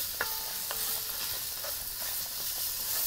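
Carrot, onion, garlic and celery frying in olive oil are stirred in a pan, a steady close sizzle broken by a few scraping stirs and clinks, with no talking.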